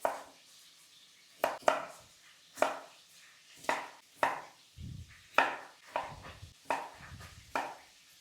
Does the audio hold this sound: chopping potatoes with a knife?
yes